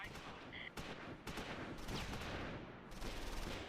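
Gunfire in the wartime tactics game Close Combat, with scattered rifle and machine-gun bursts popping steadily at a fair distance, forming a continuous muffled firefight.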